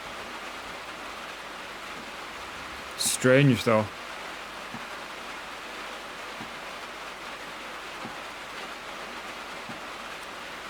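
Rain falls into a train carriage in a railway video game, heard as a steady, soft hiss of patter throughout, with a brief spoken remark near the start.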